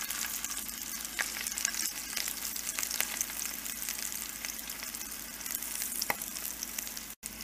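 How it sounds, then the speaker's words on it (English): Egg pieces for egg biryani fry in a pan with a continuous soft sizzle, under faint scraping and clicking as they are turned, and a short gap near the end. "Now I'm going to turn all the egg pieces."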